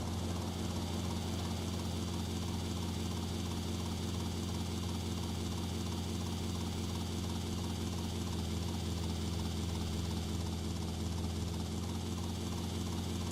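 A helicopter flies through a city in the video game GTA Vice City, its steady engine and rotor drone filling the whole stretch as one loud, unbroken hum with no talk over it.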